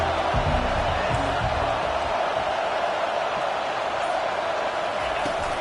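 Stadium crowd in a football video game rallying behind the defense before a big third down, a constant wash of cheering and roar, steady and full throughout, with occasional thuds near the start.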